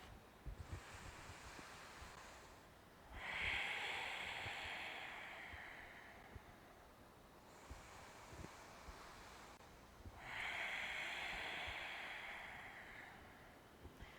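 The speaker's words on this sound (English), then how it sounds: "we fill the space with our waves of breath." Slow, deep breaths drawn in and let out during a guided breathing exercise, two long airy exhalations each swelling and fading over several seconds like soft surf, with quiet pauses between.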